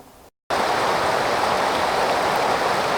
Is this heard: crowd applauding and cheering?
no